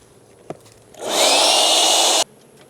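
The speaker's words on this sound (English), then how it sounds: "I'm gonna lean it back, get my blower." A blower used while harvesting honey from a beehive kicks on after a faint knock, roars loudly and steadily for just over a second, then cuts off abruptly.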